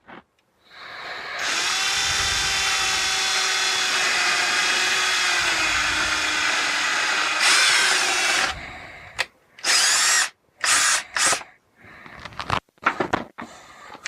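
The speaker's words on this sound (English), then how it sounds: "So grab our drill, we'll look inside, and we'll drill really slowly." A handheld power drill bores holes into a plastic filament dryer box, running steadily for several seconds, then in short separate bursts as more holes are started, loud and close with no talk.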